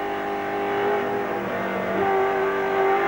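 V8 touring cars, including a Shell Sierra and a Commodore, race at Winton circuit in the 1991 Australian Touring Car Championship: a continuous, loud engine drone with shifting pitch as the cars pass and accelerate.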